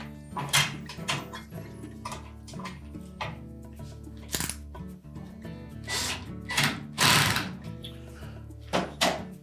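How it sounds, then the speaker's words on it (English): Screws being driven to fasten a Whirlpool range's replacement terminal block to its electrical box, heard as close, irregular clicks and scraping knocks of a screwdriver and metal parts, with no talk. "we'll line up the screw holes in the back and then secure that to the electrical box"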